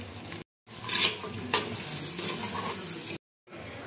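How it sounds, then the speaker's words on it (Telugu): Tomato puree is stirred into mutton frying in oil, giving a steady close sizzle with spoon scrapes and stirring swishes, broken by two brief cuts to silence. "ఇప్పుడు టొమాటో ప్యూరీ వేసుకుందాము. వేసి మిక్స్ చేసుకోండి బాగా."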